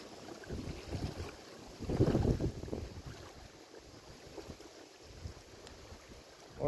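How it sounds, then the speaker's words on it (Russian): Gusty wind buffets the microphone in low rumbling surges, strongest near the middle, with no voices, by a river while fishing. "Ветер дует."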